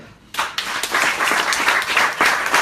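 A live audience at a hypnosis show in a Porto-Vecchio lodge breaks into sudden, dense applause, many hands clapping close and loud, sustained without a pause.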